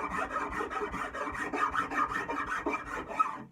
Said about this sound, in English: so I've got to rasp it going down